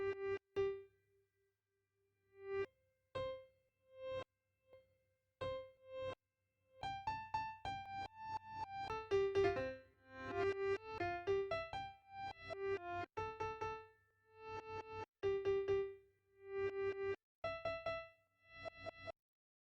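Piano sample played in reverse through a JSFX plugin: a series of swelling, backward-sounding piano notes and chords, sparse single tones at first, then denser runs with short gaps, heard alone without talk.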